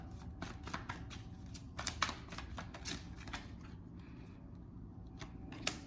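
A deck of tarot cards is shuffled by hand in repeated quick riffling bursts of crisp clicks and snaps. It sounds close and fairly quiet, with short pauses between runs.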